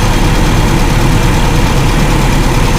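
Loud, steady low-RPM idle of a car engine, running evenly and close up throughout, with a constant low rumble and no speech.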